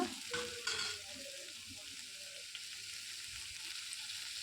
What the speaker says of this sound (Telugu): పల్లీలు చూడండి అలా ఎర్రగా కాల్చుకోవాలి బాగా.